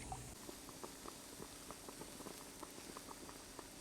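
Water with beef trotters, scallion, ginger, cooking wine and dried Sichuan pepper comes to a simmer in a pot, giving faint, soft bubbling with scattered small pops over a low steady hiss, quiet and close, with no voices.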